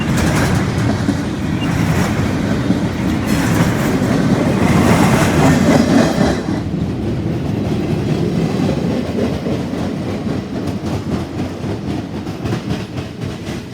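A CSX intermodal freight train rumbles across a railroad diamond, giving a steady, loud roll of wheel noise with rhythmic clickety-clack over the crossing that eases slightly toward the end.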